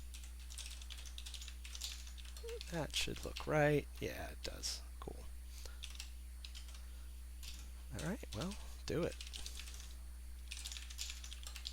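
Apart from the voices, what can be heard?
typing on a custom DIY computer keyboard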